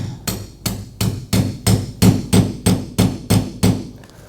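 A hammer strikes a nail set to drive a nail into vintage shiplap, about eleven sharp, evenly spaced taps in a quick steady rhythm, close and loud with no talk.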